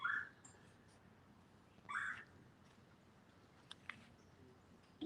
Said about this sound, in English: Lots of bird noises.